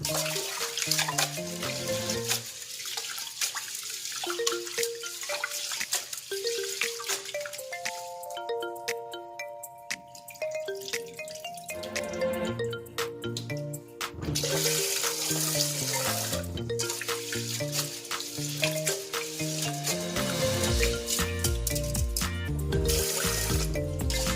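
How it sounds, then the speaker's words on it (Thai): Glutinous rice is rinsed under running tap water in a kitchen: a continuous splashing rush and trickle that rises and falls, with occasional drips and clinks of the pot, close by and without talk. "ก็ล้างทำความสะอาดปกติค่ะก็ซาวสักสองน้ำค่ะ"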